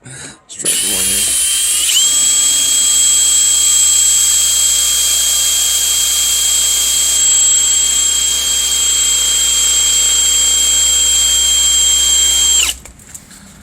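A power drill bores into an Abus bike lock, its loud, close, high-pitched whine holding steady for about eleven seconds after a short start before cutting off.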